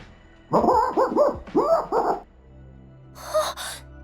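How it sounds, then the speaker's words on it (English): A dog barks in a video game, several sharp barks in two quick bursts, then a short higher yelp after a pause, close and clear with no talking. "You hear that? The dog is taunting us."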